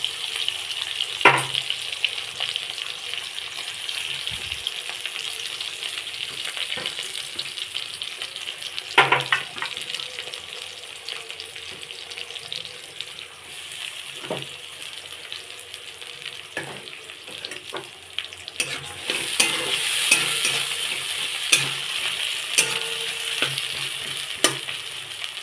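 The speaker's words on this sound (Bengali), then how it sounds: "একটু ভাজা ভাজা করে নেব।" Chopped onion and crushed garlic fry in leftover fish-frying oil in a wok, giving a steady close hiss with occasional scraping stirs and brief clatters throughout.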